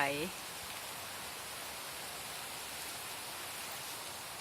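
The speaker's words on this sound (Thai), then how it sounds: "ได้ยินเสียงลมไหม" Strong wind blowing through the trees and leaves outside a house in Delaware, a steady, loud, broad roar throughout, with a brief voice at the very start.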